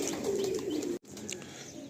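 Madrasi pigeons, tournament-quality birds kept in a loft, cooing softly in a steady murmur, with a brief pause midway before the low calls resume.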